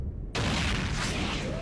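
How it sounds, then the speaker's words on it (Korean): A bus exploding on a street, a sudden loud roaring blast that bursts in after a short quiet lead-in and sustains as a dense rumbling wash. "버스가 폭발했다."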